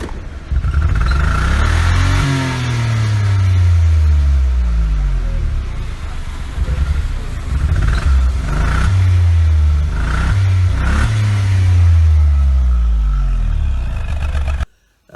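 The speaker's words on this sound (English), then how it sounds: "The exhaust fell off. So it sounded like a proper like race car." A loud, raw car engine with its exhaust fallen off revs up and down repeatedly with a rough, unmuffled roar, close by, sustained throughout before cutting off at the end.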